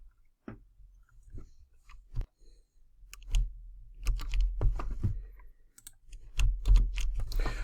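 Someone types on a computer keyboard, a scatter of sparse clicks that thickens into quick, irregular bursts of keystrokes. The typing sounds close and fairly quiet, with no voices.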